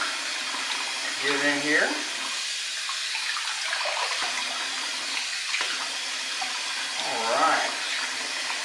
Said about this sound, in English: We've got hot water running.